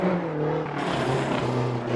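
A Lancia Delta rally car is driven hard on a stage, its engine a loud continuous roar close by that shifts pitch as it revs and changes gear.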